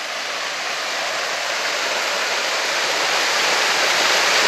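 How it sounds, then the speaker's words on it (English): A waterfall beside the Blue Mountains cliff top walk gives a steady, dense roar of rushing water, loud and continuous without pause, swelling slightly toward the end, with no voices. "There's a waterfall."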